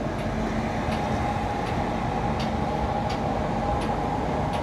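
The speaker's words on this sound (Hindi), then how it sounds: "मैं हूँ on board Hazrat Nizamuddin Yesvantpur clone Humsafar special." Hazrat Nizamuddin–Yesvantpur clone Humsafar special train departing Bhusawal Junction at night, heard from on board as a steady, continuous rumble of rolling wheels and carriage noise with faint periodic clicks, no talking.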